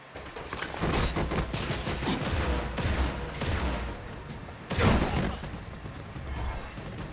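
Continuous gunfire fills a prison-break shooter set in Butcher Bay, dense volleys of shots sustained for the whole stretch with a louder burst near the end, no talk over it.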